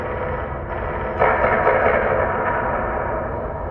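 Torpedo attack explosions in The Expanse Telltale space game ring out as a dense, continuous rumble, swelling into a louder burst partway through and then holding as a sustained roar.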